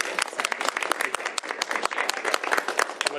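Close, lively clapping from a small group at a governor's bill signing, with distinct individual claps forming a brisk, uneven burst.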